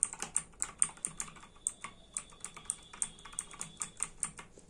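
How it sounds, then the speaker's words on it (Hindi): Fingers type on the keys of a Quantum membrane computer keyboard, giving a close, irregular series of about a dozen and a half soft, muffled keystrokes in quick bursts. "और इसकी कीज़ की साउंड सुनना"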